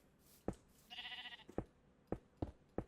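Sheep bleat in a Minecraft game world, with a harmonic bleat in the middle and several short sharp thumps and clicks scattered around it.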